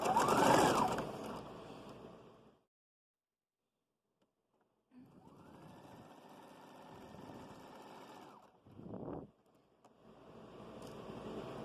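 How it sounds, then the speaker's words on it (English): A domestic sewing machine stitches around the edge of a small children's hat in a circle, its steady high whirr running in bursts separated by silent pauses and short stops; no talk. "So I sew on the edge in a circle for this one."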